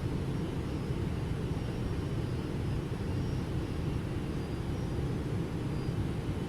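Engines of a Boeing 777F in the X-Plane 12 flight simulator rumble in a steady low roar with a faint high whine, even and unbroken throughout, with no speech.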